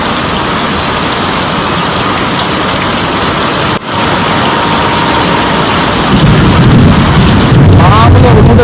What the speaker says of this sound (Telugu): ఫుల్ ఉరుముతుంది ఇక్కడ